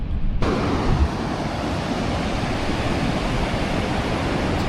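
Ocean surf on a very wide Oregon beach: a steady, dense wash of breaking waves rolling in continuously, loud and close, with no voices.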